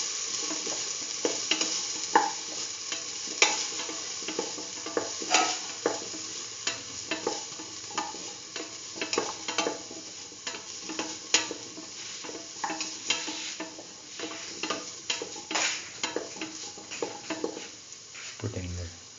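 Chayote pieces frying in a pan while being stirred, giving a steady sizzle broken by frequent scraping and clacking of the utensil, close and moderately loud throughout.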